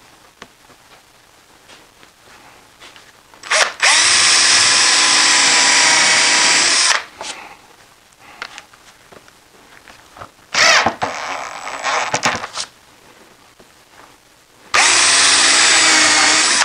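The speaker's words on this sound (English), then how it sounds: "now I'll drill some pilot holes for screws" A power drill whirs loudly in three bursts while drilling pilot holes in wood for a picture frame, a long run, a shorter uneven one, then another steady run, with quiet handling noises between.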